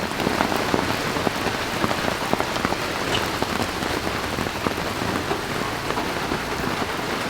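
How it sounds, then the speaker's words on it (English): Steady rain falls at a campground on South Bass Island, Ohio, near an Airstream RV, a loud, even patter of drops hitting surfaces with scattered sharper ticks and no talking. "It is raining and also sun shining."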